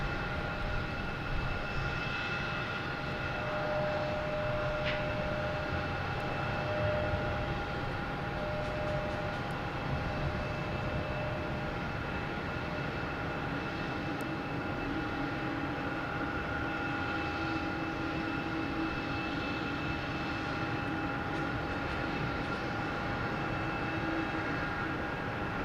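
Alaska Airlines plane taking off from Boston Logan Airport, bound for Seattle, a steady moderate engine roar with faint tonal whine, heard from a distance without talk.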